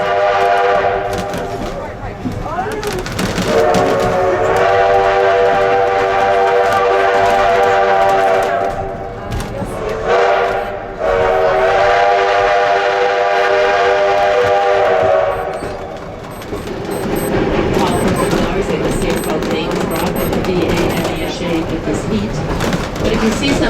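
An 1880 train passes near Keystone, South Dakota, sounding long, loud, tonal whistle blasts in two main bursts separated by a short gap, followed by rumbling running noise.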